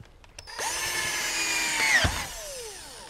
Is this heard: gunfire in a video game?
no